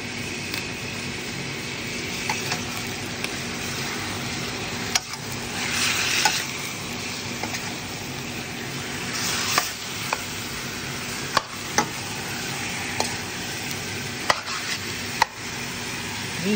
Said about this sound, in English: brown pork.